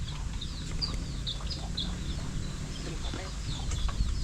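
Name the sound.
chicks (baby chickens) peeping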